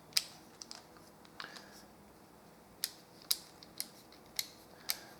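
The dials of a 5-digit combination bike lock are turned, giving a series of sharp, crisp close clicks, a few quick soft ones first and then several distinct spaced snaps, very quiet otherwise.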